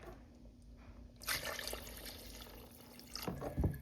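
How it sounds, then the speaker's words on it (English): Water is poured into a pot of simmering beans for a thin meatless broth, giving a quiet trickling stream that picks up and then splashes more strongly near the end, with no talking. "But I'm going to add a little bit of water."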